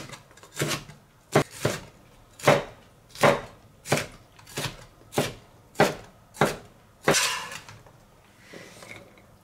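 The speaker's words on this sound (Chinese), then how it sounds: "青椒给它从中间给它切开，切开之后也是切条，改刀切丁。" A knife dices green pepper on a chopping board, giving about a dozen crisp, evenly spaced chops close by with no talk.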